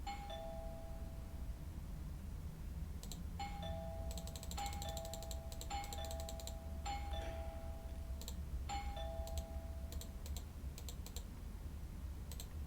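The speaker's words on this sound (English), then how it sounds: "I should just ring the doorbell, see if he answers." A doorbell at a flat in a video game chimes repeatedly in short two-tone rings, spaced irregularly over several seconds, with quick clicking keystrokes scattered between and over the chimes.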